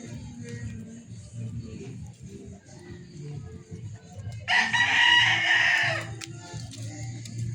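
A five-month-old Boston Roundhead rooster lets out one loud, clear crow of about a second and a half against a quiet farmyard with low background murmur.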